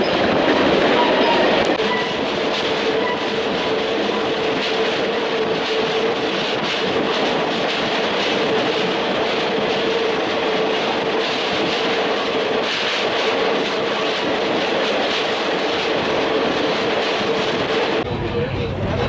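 A train rolls steadily along the rails of the Adirondack Railroad near Thendara, New York, a continuous loud rumble with faint rhythmic clatter of wheels, unbroken for the whole stretch.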